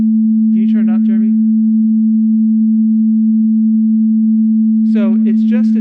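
A steady pure sine tone at 220 hertz hums continuously and loudly throughout, with brief bursts of a person talking over it near the start and again near the end.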